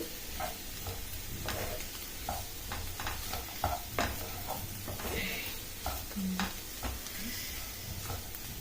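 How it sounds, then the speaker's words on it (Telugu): Radish fry with dry coconut powder stirred in a pan, a faint sizzle under repeated scraping and clinking strokes of a spoon against the pan, close and quiet. "అన్నీ వేసాక ఒకసారి బాగా కలుపుకోవాలి."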